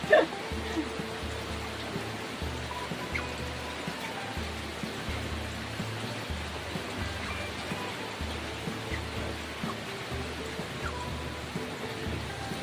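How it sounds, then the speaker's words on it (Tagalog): Steady rain falls in a rural Philippine setting, a continuous even hiss of drops across the whole stretch with no break, fairly close and moderately loud. "Ulan dito sa amin ngayon."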